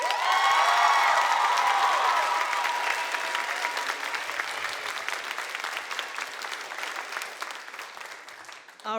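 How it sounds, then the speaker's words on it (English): An audience at a student leadership conference applauds a speaker, loud dense clapping with a few cheers and shouts that swells at the start and slowly thins out over several seconds. "Let's give Ms. Huerta one more round of applause"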